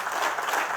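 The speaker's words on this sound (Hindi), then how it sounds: "जोरदार तालियां बजनी चाहिए बिना रुके।" A brief burst of loud, dense applause from an audience welcoming a guest at an online education event, steady and crowded throughout.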